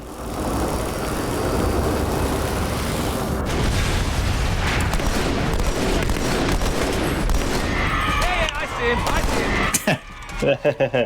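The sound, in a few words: battle rifle three-round burst firing in Halo 2 video game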